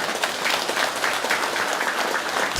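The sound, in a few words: audience clapping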